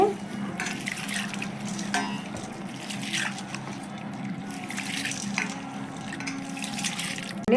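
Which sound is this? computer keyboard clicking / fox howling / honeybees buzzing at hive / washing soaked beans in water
washing soaked beans in water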